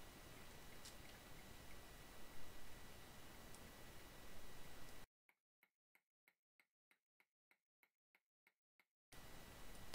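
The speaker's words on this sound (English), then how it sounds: "You can just hear it ticking off in the background." A locomotive ticking in Train Simulator: after a stretch of steady hissing noise, the sound cuts to near silence with about a dozen evenly spaced faint ticks before the hiss returns.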